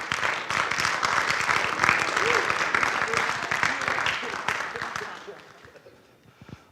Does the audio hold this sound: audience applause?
yes